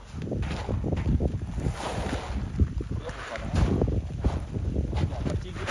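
Strong wind gusts across an open farm field during wheat sowing, a loud, close, rumbling buffet that rises and falls in surges with no break.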